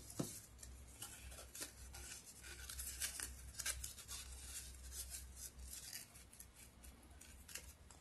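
Scissors cutting paper, giving a series of faint, irregular snips and rustles over a low steady hum, with no voices.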